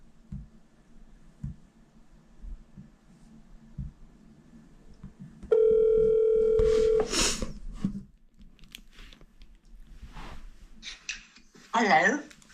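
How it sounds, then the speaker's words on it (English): Phone call ringback tone heard while calling someone, a single steady electronic ring tone lasting about a second and a half, surrounded by rustling, handling noise and background voices. "I just thought I'd put the camera on while I'm ringing her"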